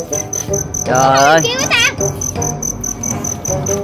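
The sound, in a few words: crickets chirping, caught in the garden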